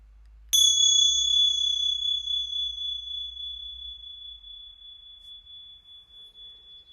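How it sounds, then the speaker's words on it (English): A single relaxation bell is struck once, giving a bright ping that rings on in a long, steadily fading tone. It is alone and clear, with no talking. "I had some bells, a little bit like this here."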